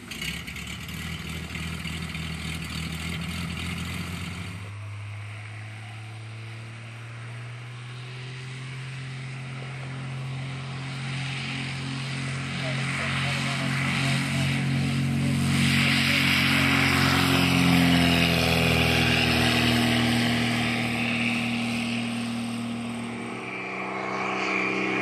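Engine of a very fast registered microlight aircraft running steadily, a droning propeller tone that shifts pitch and swells louder midway before easing slightly, heard alone without talk.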